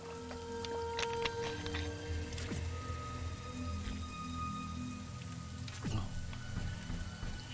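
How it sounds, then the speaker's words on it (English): Acid rain falling in The Riftbreaker video game, a steady patter of raindrops on surfaces that holds evenly throughout, with low ambient game tones underneath and no talking. "It's starting to rain acid."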